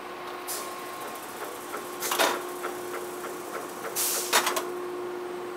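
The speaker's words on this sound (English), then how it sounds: "Turn the print cylinder on, put the press in idle." Flexographic printing press running at idle, a steady mechanical hum with a faint whine, broken by a few sharp clattering bursts, heard close and alone without speech.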